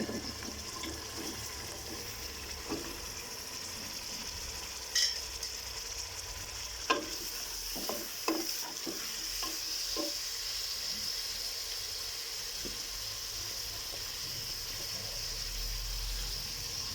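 Steady sizzling of chicken feet and onions frying in a pan, with occasional scraping and stirring clicks, close by and moderately quiet, no talking.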